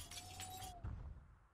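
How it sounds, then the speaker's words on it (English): Broken glass cleared from a window in the video game Project Zomboid: a faint sustained tone gives way to a brief, soft crunching shatter, heard alone. "Let's try and remove the broken glass here."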